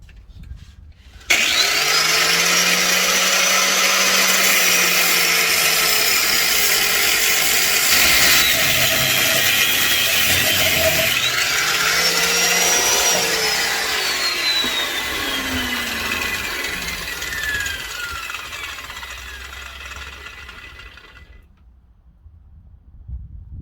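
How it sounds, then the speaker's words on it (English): Close, loud power tool cutting through van suspension bolts, a steady grinding whine with a rising and falling pitch that runs for about twenty seconds before cutting off. "I can start to cut these bolts down"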